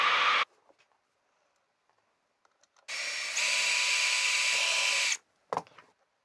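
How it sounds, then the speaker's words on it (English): A power drill bores holes while a homemade camera flash box is being built. Two close, loud whining bursts are heard, one very short and one lasting a couple of seconds, separated by near silence and faint handling clicks. "we'll get them all drilled now"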